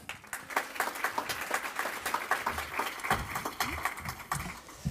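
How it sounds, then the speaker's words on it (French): Live audience at a Start noW! 2021 event clapping as a guest comes to the podium, individual claps distinct and fairly close, with a few voices and cheers mixed in. "sous vos applaudissements, s'il vous plaît."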